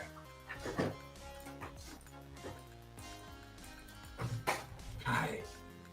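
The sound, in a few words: dog making noises under the desk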